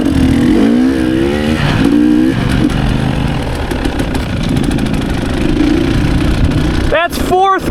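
A motorcycle rolls slowly in third or fourth gear, its engine a loud, close, steady low rumble with uneven pulsing, heavy wind buffeting throughout and a voice talking over it.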